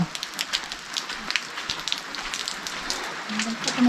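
Rain falls on a muddy hillside village in the rainy season, a faint scattered patter of drops and soft crackles continuing throughout at a distance.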